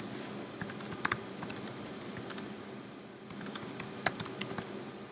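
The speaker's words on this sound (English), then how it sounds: "So I could type here" Typing on a computer keyboard, two bursts of rapid, irregular key clicks separated by a brief pause, fairly close and alone without talk.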